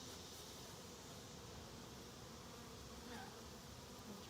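Honeybees buzz around a hive box as a resettled colony goes about its work, a steady, faint, continuous drone with no pauses or voices.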